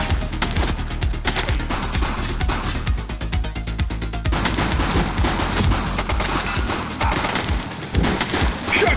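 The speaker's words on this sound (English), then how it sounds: "Shots fired!" Gunfire in the police video game The Precinct, dense continuous automatic shooting with rapid rhythmic shots and thuds, loud and steady throughout amid a busy game soundscape.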